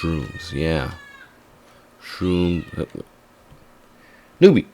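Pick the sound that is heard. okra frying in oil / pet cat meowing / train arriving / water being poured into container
pet cat meowing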